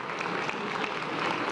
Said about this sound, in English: Let's give our honorees a big round of applause.